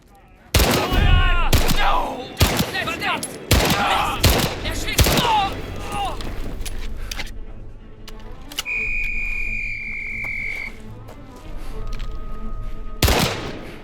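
Luger pistol gunfire from the 1937-set game Indiana Jones and the Great Circle, with several sharp loud shots and echoing cracks followed by a steady electronic tone and a later shot, set against game ambience.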